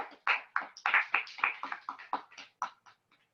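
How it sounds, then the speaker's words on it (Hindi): A congregation at a Sunday church service claps hands in thanks: a short run of about a dozen fairly even claps, moderately close, that speeds up and then fades over a few seconds, with no talk. "आए ताली बजाकर प्रभु का धन्यवाद करें"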